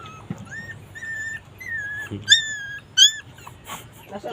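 A dog whimpers in a series of high, thin, drawn-out whines, some rising sharply, with low background rumble and faint voices.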